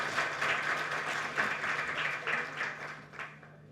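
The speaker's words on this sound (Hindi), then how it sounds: "तालियां बजाइए इनकी हिम्मत के लिए" Applause from the audience at a national workshop for media and social media in-charges, a burst of many hands clapping in uneven waves that gradually thins out and fades by the end.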